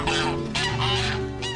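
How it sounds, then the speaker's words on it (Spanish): Geese honk loudly and repeatedly at close range on a farm in the Ebro Delta that preserves native duck, goose, turkey, donkey and hen breeds, with several overlapping calls and no other sounds. "Patos, ocas, pavos, burros y sobre todo gallinas autóctonas es lo que Salvador preserva de la extinción en su granja"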